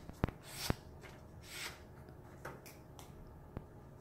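A sheet of white paper is folded in a classroom, giving a few sharp crisp creases and soft rustles that stand out from a quiet room hush.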